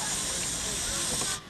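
Miniature live steam locomotive at a 1987 hobby railroad gives off a loud, steady hiss of escaping steam that cuts off abruptly near the end.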